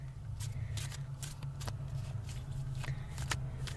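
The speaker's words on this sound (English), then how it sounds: "the way I choose my cards is I shuffle" A deck of tarot cards is shuffled in a quiet indoor setting, giving a steady run of soft, papery riffles and slaps at close range, with no talk and a low hum underneath.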